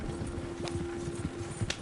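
Horses gallop in Red Dead Redemption 2, a steady rhythmic clip-clop of hooves under a continuous low hum, fairly close and moderately loud.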